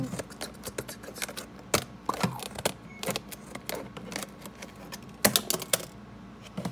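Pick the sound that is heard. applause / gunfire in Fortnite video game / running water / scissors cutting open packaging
scissors cutting open packaging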